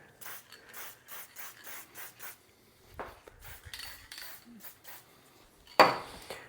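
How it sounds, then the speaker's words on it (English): Rag rubbing over the metal of a century-old C. Parker vise being restored, a series of rhythmic close wiping strokes followed by a few scattered knocks and one sharper metallic clank near the end. "I'm just going to gently wipe it down, and you can apply more of this as you need."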